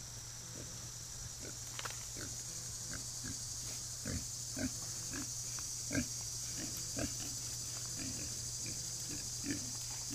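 Pigs grunt and oink at a farm in short, irregular bursts over a steady hum and chirping insects, with the animals fairly close.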